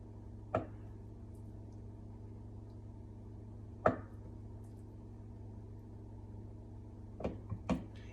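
A knife cuts through a block of tofu in a quiet kitchen, leaving a few soft, brief thuds spaced seconds apart over a low steady hum, with no voices.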